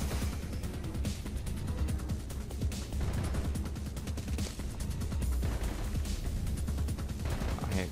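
LMG fire rattles in the video game Mirror's Edge: dense, sustained rapid automatic bursts continue almost without pause, loud and close, with crashing impacts mixed in.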